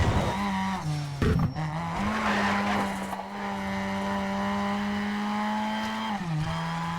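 A race car engine in Need for Speed Shift 2 holds a steady, buzzing drone with quick gear-shift dips and brief tire squeals, loud and close throughout.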